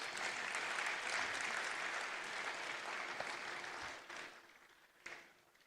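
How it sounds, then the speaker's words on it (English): Conference audience at an international CSR event in Lagos applauding a professor, steady dense clapping that fades toward the end with a few last scattered claps. "please acknowledge Professor Wayne Dunn with a round of applause"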